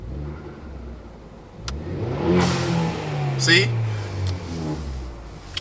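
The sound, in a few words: Ford Focus ST engine revving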